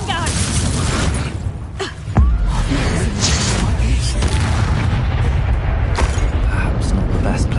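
A Confringo spell blast in Hogwarts Legacy, a loud booming explosion with a heavy low thump near the start followed by sustained rumbling battle noise and mechanical clatter, with a voice calling out over it.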